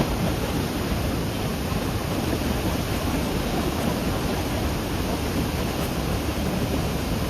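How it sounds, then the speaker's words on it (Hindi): Heavy water released from a dam on the Ganga at Haridwar, a steady, dense roar of rushing flow that fills the whole clip with unbroken broadband noise and no pauses. "पानी को ज्यादा मात्रा में छोड़ने की वजह से पानी का फ्लो बहुत ही ज्यादा हो चुका था।"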